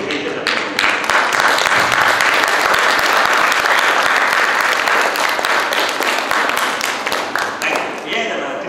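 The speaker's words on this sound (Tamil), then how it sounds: "அதனால அம்மா அப்பாவுக்கு பெரிய கைத்தட்ட." A school event audience at a design school in Trichy gives a long, loud round of applause for parents, thick crowd clapping that swells and holds for about eight seconds before tapering off.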